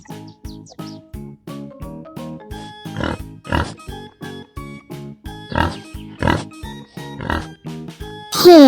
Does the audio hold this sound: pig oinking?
yes